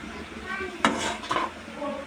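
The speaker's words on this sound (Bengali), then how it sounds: "তো উল্টিয়ে পাল্টিয়ে খুব ভালোভাবে ভাজা ভাজা করে নেব" Bottle gourd with egg is stirred and flipped in a frying pan, with a couple of sharp spatula clanks against the metal over a soft frying hiss.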